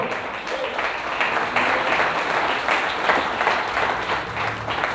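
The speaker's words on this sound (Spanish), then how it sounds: "Dele palmas al Señor." A church congregation claps together during a Spanish-language sermon, a steady dense wash of applause that holds for several seconds with faint voices mixed in.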